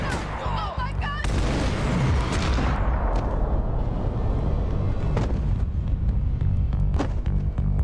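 Gunfire in the video game Max Payne 3 cracks out in loud, sharp shots over a dense, continuous roar of battle, with scattered louder reports and a brief voice near the start.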